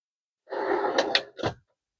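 A cutlery drawer in a camper van kitchen, built as an L-shaped unit in a Movano or Renault Master conversion, slides open with a rumbling glide, then shuts with a couple of close, sharp knocks, heard alone.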